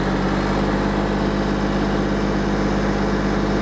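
A Kubota compact tractor engine runs at a steady, moderate idle near 1400 RPM, a continuous low mechanical drone with no change in pitch or pace, close and fairly loud, and no voices.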